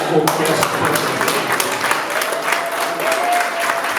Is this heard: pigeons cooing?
no